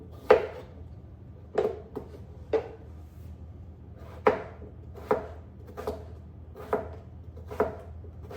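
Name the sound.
slicing a cucumber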